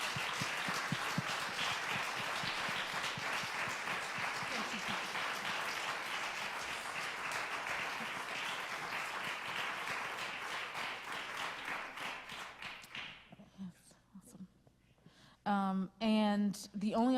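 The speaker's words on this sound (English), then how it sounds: "give a round of applause to our storytellers" A crowd claps in steady, dense applause for the storytellers at an MLK screening and panel discussion, lasting about thirteen seconds before fading out as a voice begins speaking.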